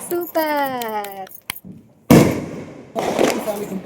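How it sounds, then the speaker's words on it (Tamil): Loud Diwali firecrackers burst sharply twice, echoing outdoors, after a voice speaks briefly; the cracks are close and punchy with crackling tails. "பாருங்க எப்படி பட்டாசு செம்மையா வெடிக்கிறாங்க."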